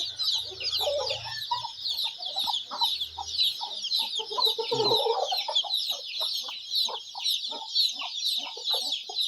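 Chickens, a hen with her chicks, cluck steadily in a busy, overlapping chorus, with high chick peeps filling the background throughout.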